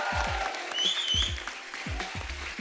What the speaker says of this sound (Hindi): आप सब एक बार आलिया के लिए जोरदार तालियां